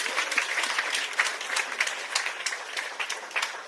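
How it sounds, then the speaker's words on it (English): An audience applauds at a ceremony marking solar power installed at Connaught hospital in Sierra Leone, with distinct claps standing out over a steady, moderately loud wash of clapping. "Let's give ourselves a big round of applause"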